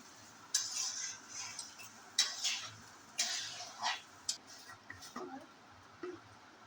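Rice being stirred and fried in a pan over a medium flame, a spoon scraping and clinking against the metal in irregular strokes, fairly faint against a quiet kitchen background.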